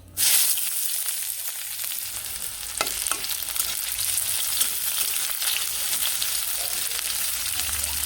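Chopped onions hit hot oil already holding blackened cumin seeds and bay leaf, sending up a loud, dense, steady sizzle with occasional crackles and stirring scrapes, no voices over it.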